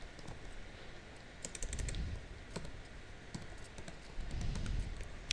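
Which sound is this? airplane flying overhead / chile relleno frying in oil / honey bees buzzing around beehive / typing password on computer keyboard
typing password on computer keyboard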